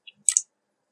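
Computer mouse clicking on a link: a faint tick followed by a quick, close double click, then silence.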